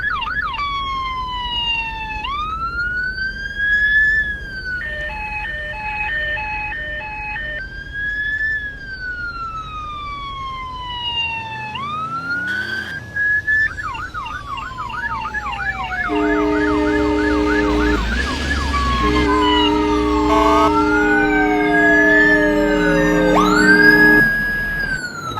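Emergency vehicle sirens sound at a car fire during an old-fashioned car show. Loud wailing and yelping tones sweep up and down, with overlapping siren patterns and electronic warbles layered over a low engine rumble, continuous and close for the whole stretch.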